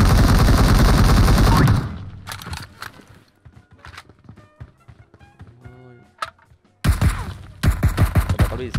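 PUBG battle-royale gunfire: a dense, loud burst of rapid shots up front, then scattered lighter clicks and handling noises, before sharp volleys of shots return near the end.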